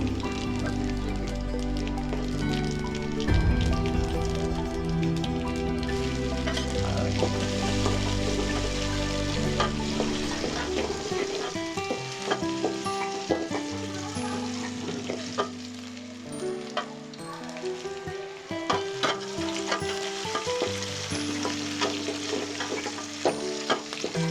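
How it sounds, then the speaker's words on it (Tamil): Black pepper and cumin dry-roast in a pan with steady crackling and sizzling, popping and rustling continuously and fairly close for the whole stretch. "வானலில் மிளகு சீரகத்தை சேர்த்துக்கலாம்"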